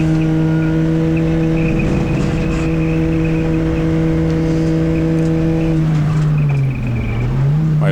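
Loud, steady in-car engine drone from a BRSCC CityCar Cup race car accelerating at Silverstone, holding one note for several seconds before the pitch dips and rises again near the end.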